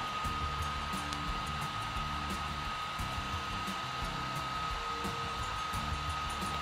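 A phone cooling case fan runs at level 3, a steady loud whirring hum with a constant high tone, close and unbroken throughout with no talking.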